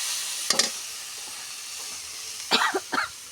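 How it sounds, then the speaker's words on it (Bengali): Vegetables with tomato and egg fry in a pan under a low, steady sizzle, broken by a few short, sharp bursts that sound like stirring or a cough. "হয়ে আসছে ভাজা ভাজা।"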